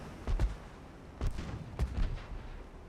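Heavy naval guns on warships fire in a naval battle game, with several deep booming shots spaced about a second apart.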